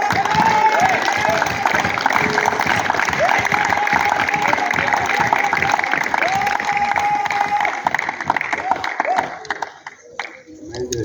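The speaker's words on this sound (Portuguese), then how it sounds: "Palmas para Jesus" A large church congregation claps steadily and loudly, with cheering voices and singing mixed in, the applause thinning toward the end.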